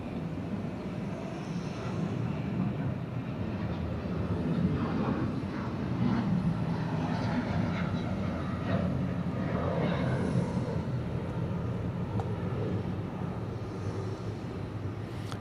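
A Delta Boeing 717 departs Atlanta for Wichita, Kansas, producing a moderate, steady jet engine rumble with a mild swell in the middle, heard from some distance.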